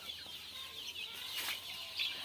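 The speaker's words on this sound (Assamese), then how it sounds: "এইটো হ'ল লোকেল মুৰ্গীৰ ফাৰ্ম" Chickens on a local poultry farm cluck softly in scattered bursts against a low steady background hum, fairly quiet and close, with no voices.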